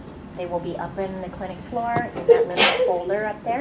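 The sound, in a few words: sneeze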